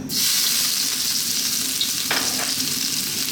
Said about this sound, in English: Let's start off by dropping in our ginger